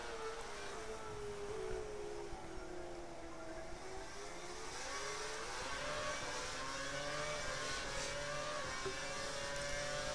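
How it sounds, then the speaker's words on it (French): High-pitched racing engines from the F1 2012 video game whine steadily throughout, their pitch gliding up and down as the Formula One cars rev and shift, loud and continuous with no talk. "Le bruit des moteurs est franchement mieux comparé à l'année dernière"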